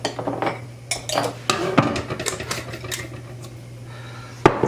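Stuffed pasta shell filling with nutmeg being stirred in a bowl, close and clattery, with repeated spoon knocks and scrapes against the dish in an uneven rhythm and a sharper clank at the end.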